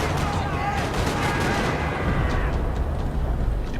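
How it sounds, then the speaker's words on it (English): Video game gunfire in a parking lot in Max Payne 3: rapid rattling bursts of shots fill the whole stretch loudly, dense and continuous, with sharper cracks early and a rumbling wash behind. "Another parking lot rattling with gunfire."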